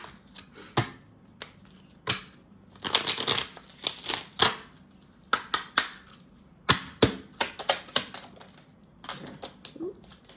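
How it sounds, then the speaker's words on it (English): Black Hollywood Romance Stars oracle cards being shuffled close up, a run of crisp riffling bursts and taps coming in quick irregular clusters with short pauses. "so let's get these Black Hollywood Romance Stars Oracle cards"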